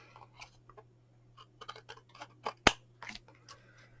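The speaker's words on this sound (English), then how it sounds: "Use an old pair of scissors because my glue is not dried yet." A series of short, crisp snips and rustles, like scissors cutting through paper, irregular in rhythm and close by, with a low steady hum underneath.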